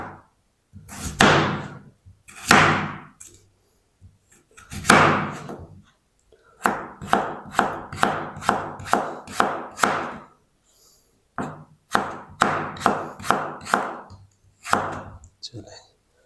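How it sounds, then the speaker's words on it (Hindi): A knife cuts potatoes into thin slices on a cutting board for crispy pakora, with distinct chopping strokes close up: a few spaced cuts, then rapid rhythmic bursts of quick slices, pausing and resuming. "इस तरीके हम बिल्कुल बारीक बारीक स्लाइस बना लेंगे"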